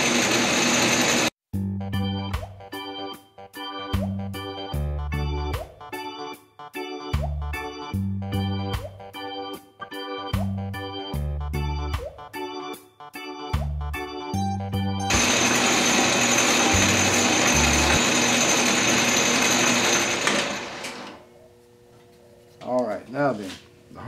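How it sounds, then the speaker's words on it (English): A Grizzly G1007 mill drill running in a home workshop, its motor giving a steady rhythmic mechanical chatter and regular ticking pulses, then a louder continuous whirring grind while drilling before winding down near the end. "We'll just drill this thing in there fairly far"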